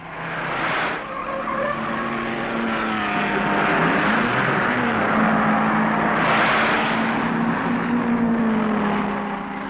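1955 Le Mans race cars, a Jaguar chasing a Ferrari, roar past with loud sustained engine drone and shifting pitch, close and continuous, tires hissing throughout with no voices.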